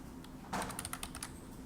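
Quick bursts of keystrokes on a computer keyboard entering alt text, a short flurry of close, light clicks in a quiet room.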